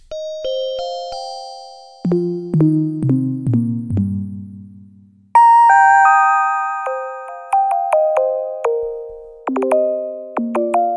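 Bright synthesized bell tones from an E-mu Proteus 2500 ring out in melodic sequences, each note struck with a sharp attack and a slow decay, shifting between low and high registers.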